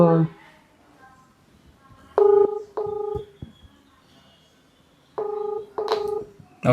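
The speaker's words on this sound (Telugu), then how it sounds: "నీ ముందే ఫోన్ చేస్తున్నా" Phone keypad tones beep in short bursts, a few in quick succession, then a pause before more presses, clear and close in a quiet room.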